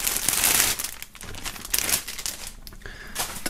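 Plastic foil being pulled off merchandise such as a shirt and a music album, with continuous close crinkling and rustling that rises and falls for a few seconds, no voices.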